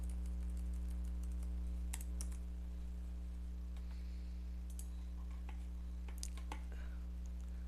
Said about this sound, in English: I'm the one typing it in.